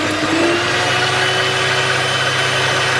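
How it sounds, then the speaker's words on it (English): An electric mixer whisks egg whites toward white peaks for a red velvet cake, producing a steady loud motor whine with a constant low hum, uninterrupted and close throughout. "we're going to whisk this till we get white peaks"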